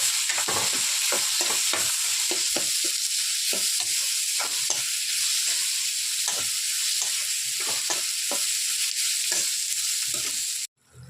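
Loud, steady sizzling of tomatoes frying in a pan for chicken kurma, with repeated scraping taps of a spoon stirring throughout, then a sudden drop near the end.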